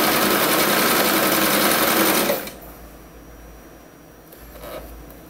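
A sewing machine stitches a nylon thread frill hem, buzzing loud and steady up close for about two seconds before stopping abruptly, leaving faint handling noise.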